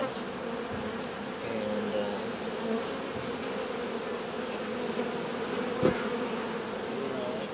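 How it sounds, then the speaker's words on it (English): A swarm of honey bees drones continuously and close during a removal, a thick steady buzz with a brief word spoken near the start. "A bunch of chains of bees across here."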